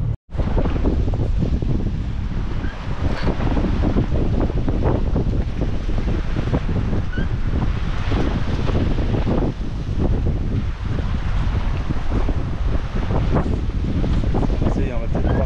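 Strong gusty wind roaring across the microphone aboard a sailboat leaving the harbour channel, a loud continuous buffeting with surging gusts around 24 knots and water noise beneath, no clear talk.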